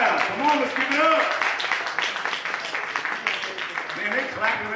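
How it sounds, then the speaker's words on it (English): Comedy club audience applauding and clapping steadily near the stage, a dense continuous patter mixed with crowd voices and a host talking over it. "Man, they clapping."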